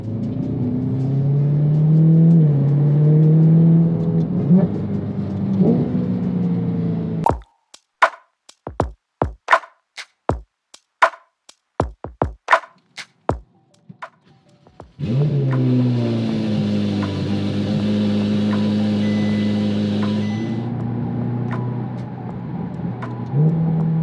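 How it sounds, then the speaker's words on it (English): A car engine idles and revs with a rough rumble, cut off midway by a run of sharp, irregular knocking taps heard close up, then the engine runs again with a steady drone and whir. "there's this weird knocking sound happening somewhere here."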